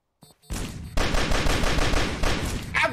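Unsilenced gunshots in the video game Sneak Thief during a bank robbery: after a couple of faint clicks, loud rapid automatic fire rattles out close up in sustained bursts, with a brief pause near the start.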